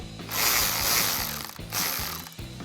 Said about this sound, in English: Now take your 8mm socket and undo the clamp at the throttle body.